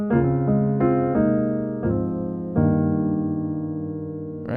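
Piano playing gospel jazz chords with a melody on top: several sustained rich chords struck in turn, each ringing and slowly decaying, played solo with no voice.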